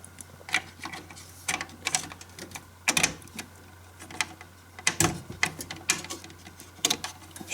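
A CPU being pressed down into its motherboard socket during a gaming PC hardware upgrade, heard as sharp, close mechanical clicks and ticks that come in irregular bursts over a faint steady hum.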